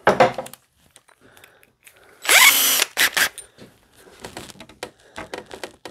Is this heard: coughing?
no